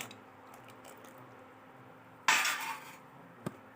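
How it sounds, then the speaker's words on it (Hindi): A metal spoon clatters sharply against a cooking pot of drumstick and lentil vegetable curry, one loud scrape followed by a brief clink, otherwise quiet with no speech. "इस तरह से उसे हिला हिला कर पकाइए"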